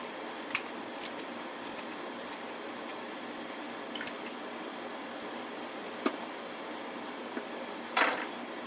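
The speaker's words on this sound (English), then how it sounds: "I'm actually going to just cut them with scissors." Faint, sparse snips of scissors cutting jalapeno, spaced irregularly in a quiet room.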